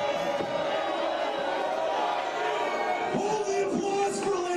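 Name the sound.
wrestling crowd cheering and applause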